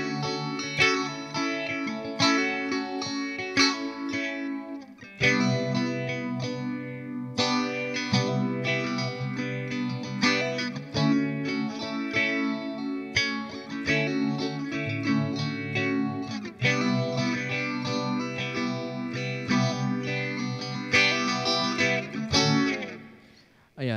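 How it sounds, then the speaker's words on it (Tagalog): Electric guitar run through the presets of an M-VAVE Tank G multi-effects unit, with modulation, reverb and cab simulation: sustained chords and lead lines with chorus and distortion colouring, played continuously and loud, with brief pauses between presets. "So, yan yung ilan sa mga presets na meron dito sa ating Tang G."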